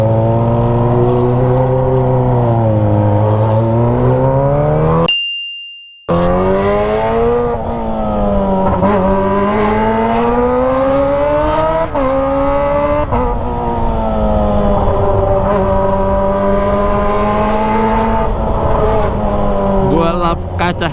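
Kawasaki ZX25R motorcycle fitted with a Toce aftermarket exhaust, its high-revving four-cylinder wail rising and falling through the gears while riding in traffic, loud and close, with a brief dropout partway.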